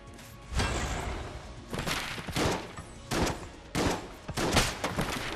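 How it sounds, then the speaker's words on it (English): Shotgun blasts in the Enter the Gungeon video game, about five loud, separate booming shots spaced irregularly and heard alone without talk. "Shotgun! Shotgun!"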